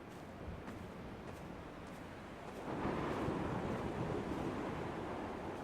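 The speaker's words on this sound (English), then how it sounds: "Really nice touch with all the windy weather." Wind and crashing surf in the video game Dear Esther, a broad steady roar that swells louder partway through and stays full, with no voices.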